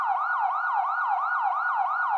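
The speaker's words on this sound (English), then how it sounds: "There's a police siren for an emergency." A siren wails in fast, repeating rising-and-falling sweeps, loud and steady, with no voices over it.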